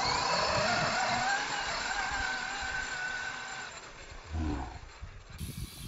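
An Axial Yeti XL radio-controlled car launches and drives off, its electric motor whining loudly at first and fading as it pulls away, with crunching tire and ground noise toward the end.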